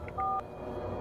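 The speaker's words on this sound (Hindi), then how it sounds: "फोन लगा अपने भाई को।" A single short telephone keypad tone, a brief clean electronic beep over faint background noise.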